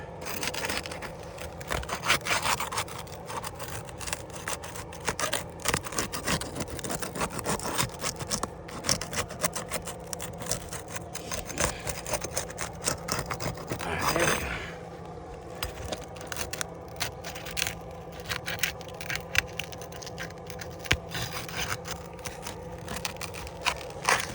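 Scraping and rasping of a pry tool working loose sealed asphalt roof shingles to reach a fastener, steady close friction noise with a louder burst midway, no talk.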